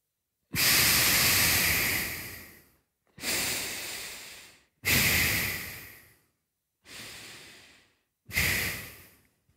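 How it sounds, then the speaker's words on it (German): Forceful rhythmic breathing through the nose during a yoga exercise session: five loud, hissing exhalation bursts of about two seconds each, separated by short pauses, with no talking. "dieses Schnaufen kann man eben auch durch den Mund praktizieren."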